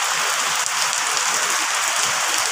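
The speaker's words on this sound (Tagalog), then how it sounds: "Ang lakas ng ulan." Dense, hissing downpour of heavy rain pattering on surfaces, steady and loud throughout with no voices.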